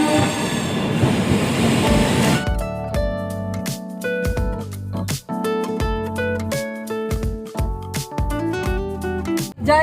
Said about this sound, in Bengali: ট্রেন কিন্তু আমাদের একদম রাইট টাইমে ছেড়েছে, 9:15-তে